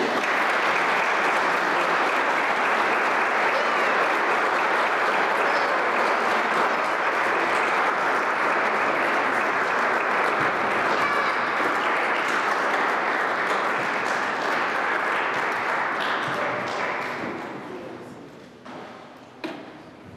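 A church congregation at a Sunday Mass applauds warmly, with dense, loud clapping that fills the space and holds steady for about seventeen seconds before tapering off into a few scattered claps.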